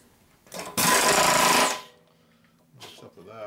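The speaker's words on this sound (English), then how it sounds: "I'm gonna drill." A loud power drill whirs in one sustained burst of about a second during a Harley-Davidson Evolution motor rebuild and cam bearing repair, with a vise nearby, followed by quieter mechanical noise and a brief voice.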